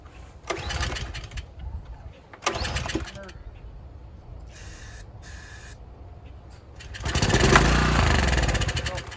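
A Subaru EA190V pressure washer engine with a worn-out carburetor is pull-started with the choke on: two short, loud cranking bursts, a pause, then a longer, rough roar near the end, all close up.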